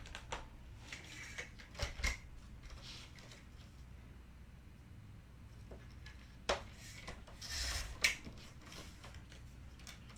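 Craft card pieces being trimmed, a few sharp snips and rustles of card scattered across a quiet room tone, close but soft, with no speech.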